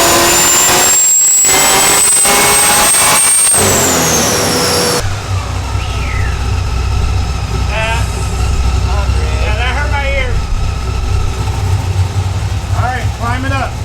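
A 1967 Camaro with a Magnuson-supercharged LSA engine runs loud and close during tuning, first with a high supercharger whine, then settling into a rough, rumbling idle with brief chirps.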